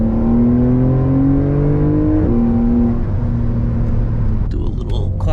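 Porsche 911 Carrera 4S from 2021 pulling hard in third gear, engine note rising steadily in pitch with a brief shift-like dip midway, loud interior rumble with someone talking over it.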